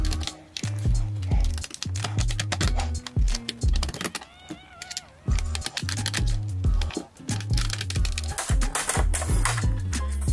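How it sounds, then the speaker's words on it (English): Plastic retaining clips on an Asus ROG Strix laptop's LCD bezel snap loose as a tool runs along the edge, giving a dense run of close, sharp clicks and scratchy crackles in irregular bursts throughout. "you can hear the plastic clips releasing."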